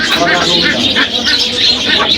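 Pigeons coo and flutter amid a busy crowd at the Jinjira pigeon market in Dhaka, Bangladesh, with chatter and background babble filling the scene throughout.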